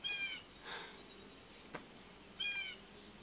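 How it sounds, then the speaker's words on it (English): A bird gives a couple of harmonic, wavering calls at the start and again near the end, moderately faint, with a brief click between. "there's a bird outside if you can hear it"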